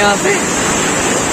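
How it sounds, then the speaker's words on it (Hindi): The Beas river rushes swiftly in spate, a loud, dense, continuous roar of fast water close by, with a brief voice speaking over it. "ये देखिए कितने उफान मारती हुई व्यास नदी है, कितना तेज वेग है इसका।"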